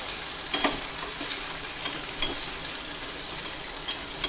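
Gunda, raw mango and green chillies stirred together in a pan for a sweet-sour sambharo give a steady, close hiss of frying, with a few sharper clicks and scrapes from the spoon.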